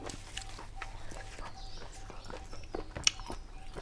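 Crunchy chewing of a spicy northeastern Thai apple snail dish, with soft, irregular bites and crunches close to the microphone, faint and intermittent.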